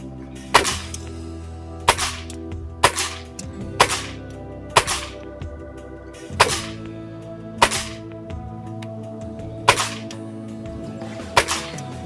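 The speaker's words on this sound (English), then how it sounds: "Using the Barracuda pellets, I shot a group of 10" A Crosman MTR77 air rifle fires Barracuda pellets, ten sharp close cracks spaced about a second or two apart, each one loud and distinct against a quiet background.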